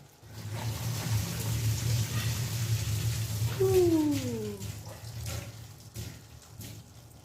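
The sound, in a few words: pasta water being drained through a strainer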